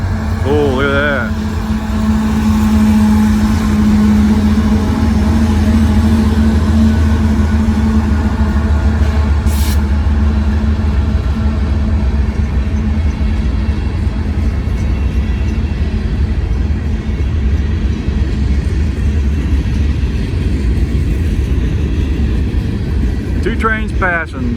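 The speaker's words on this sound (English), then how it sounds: "Two trains passing." Two trains passing each other near a rail work zone, their steady loud rumble and rolling wheel noise filling the whole stretch, with a horn-like tone early on and a low engine drone underneath.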